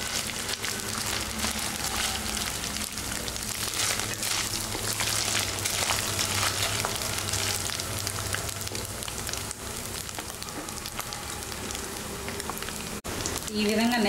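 Dried fish frying in hot oil in a pan, a steady dense crackling sizzle that runs throughout at moderate loudness with a faint background hum.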